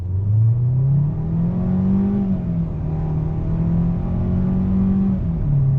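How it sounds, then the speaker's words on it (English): A 2021 Hyundai Sonata SEL Plus engine revs up steadily from a standstill, its pitch climbing and settling through smooth gear changes, loud and close throughout. "Let me go ahead and do a little acceleration test here from a dead stop."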